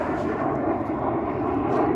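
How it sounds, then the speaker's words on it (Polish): Airplanes fly overhead outdoors, a broad, steady low roar that fills the space evenly without any talking. "Samoloty lecą!"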